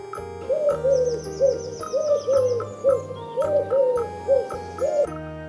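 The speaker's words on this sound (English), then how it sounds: "Pigeon." Repeated pigeon cooing, soft rounded hooting calls in a regular rhythm of about ten phrases over a low looping musical backing, fairly close and clear, with no talking.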